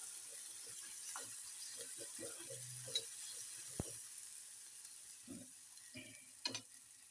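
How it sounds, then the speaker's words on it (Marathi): Onion frying in oil for a spicy green bean curry, a faint, even sizzle under scattered clinks and scraping stirs of a spoon in the pan. "छान कांदा भाजून घ्यायचा म्हणजे तेला तळून घ्यायचा"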